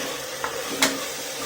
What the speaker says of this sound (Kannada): ಇವಾಗ ಇದಕ್ಕೆ ನಾನು ಹೆಚ್ಕೊಂಡಿರೋಂಥ ಟೊಮೆಟೊನ ಹಾಕೋತಿದ್ದೀನಿ